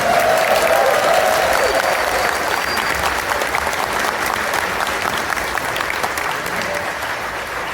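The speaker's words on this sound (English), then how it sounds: "round of applause for Talon, please." Convention crowd at the ConFuzzled 2024 furry convention opening ceremony applauding Talon on stage: sustained, loud, dense clapping with a brief cheer near the start, easing gradually.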